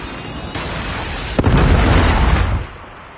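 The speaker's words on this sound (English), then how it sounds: "Friendly Predator missile inbound." A Predator missile strike in Call of Duty: Modern Warfare 3 multiplayer, a sharp loud impact followed by a heavy rumbling blast that roars for about a second before cutting off abruptly, with ambient battle noise underneath.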